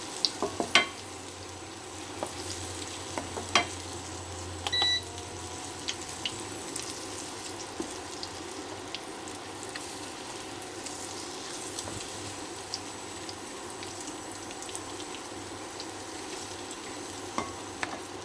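Japanese sweet potato stuffed with cheese deep-frying in oil, a steady close sizzle and bubbling with scattered clicks and light stirring knocks throughout, no voices.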